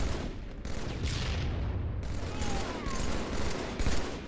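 Grenade blasts in Halo 3 Infection multiplayer form a dense, rumbling wash of booms and crackling gunfire, loud and continuous throughout with no clear gaps.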